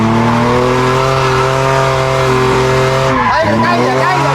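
A car drifting during a drift lesson screeches with a loud, sustained tire squeal over a droning engine, the pitch wavering and breaking up near the end, with voices talking over it.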